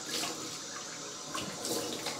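Cold water runs from a bathroom tap during a wet shave, a close, steady splashing stream with a few brighter gushes near the end.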